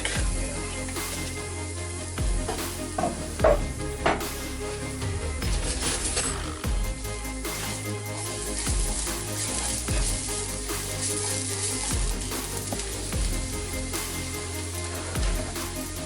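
Garlic sizzles steadily in a tablespoon of olive oil, a dense, continuous frying crackle with a few brief clinks of a utensil, close and fairly loud with no talk.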